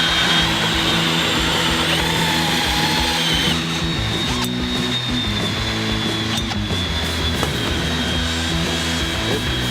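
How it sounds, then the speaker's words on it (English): A power drill runs continuously and loudly up close, its motor pitch wavering and shifting as it bores a hole through a tabletop for a pipe. "we gotta drill our hole here, that the pipe is gonna fit right through"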